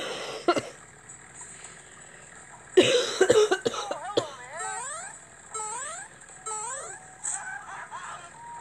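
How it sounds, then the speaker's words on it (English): A few sharp coughs from someone sick, one burst of several close together, followed by whiny, moaning vocal sounds rising and falling. "every time I try to laugh, it comes out as coughing"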